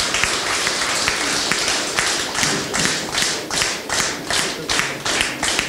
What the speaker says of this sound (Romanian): aplauze, aplauze pentru maestru Volontir